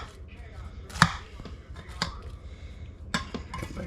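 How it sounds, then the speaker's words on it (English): A knife slices through a crispy-topped chicken casserole into squares, giving several sharp crunching cuts with a loud crack near the start, separated by quiet pauses. "We'll cut it in square this way."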